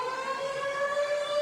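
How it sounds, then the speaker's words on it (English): A steady electronic alarm siren tone sounds inside a pop song, holding continuous pitched layers at a fairly even, loud level for the whole stretch with no voices. "Okay, alarm siren."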